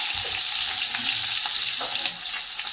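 Finely chopped green chillies sizzle in hot oil with mustard seeds while a radish sabzi is prepared, a steady close crackling hiss with a few light stirring clinks.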